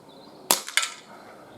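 Two sharp, close pops from a Gletcher NGT RF revolver air pistol fired freestanding at cans in a garden outdoors, the shots about a quarter second apart with a brief ring after each.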